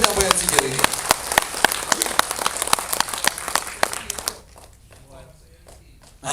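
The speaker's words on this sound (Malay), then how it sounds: "Satu tepukan paling gemuruh untuk penyampaian sijil ini" A crowd applauds a certificate presentation at an amateur radio seminar and annual general meeting, with a steady stream of sharp, close claps for about four seconds before it dies away into quiet room tone.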